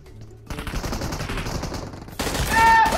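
Rapid automatic gunfire from an M16 rifle in the mobile battle-royale game PUBG Mobile, dense bursts running almost continuously after a short quiet start and growing louder and harsher near the end.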